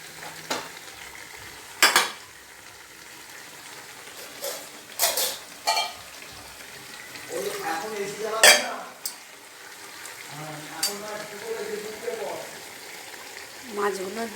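Fish pieces are fried in a pan at home, making a continuous close sizzle broken by loud clacks of a spatula or spoon against the pan and occasional clinks of utensils.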